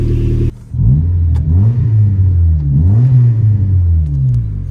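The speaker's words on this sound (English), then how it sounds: "once you're really on the throttle, that's when it screams." A Honda Civic fitted with a junkyard exhaust revs hard in repeated rising and falling throttle blips, loud and close, its deep raspy tone surging after a brief drop in engine noise.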